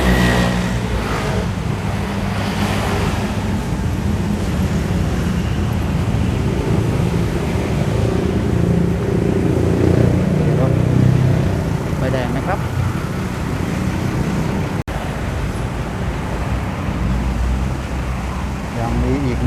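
Steady roar of road traffic on a Bangkok street where cars wait at a red light beside a pedestrian overpass, a continuous dense rumble of engines with no clear gaps.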